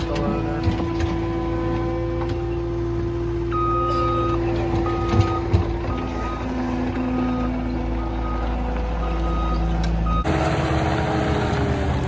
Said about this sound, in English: We're just gonna do a quick scrape and clean everything up with the loader.